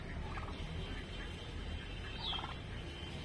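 A baby turkey chick gives a few faint, high peeping calls, soft and brief against a steady noisy background.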